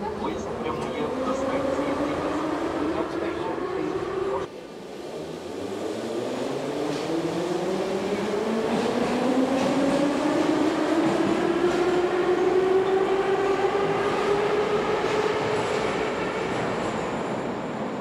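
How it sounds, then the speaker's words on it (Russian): A small yellow rail wagon rolls past in Kyiv with a steady loud rumble and rising, drawn-out wheel squeal that swells and fades over time, close by with faint background voices. "Такой желтенький зарядненький вагончик."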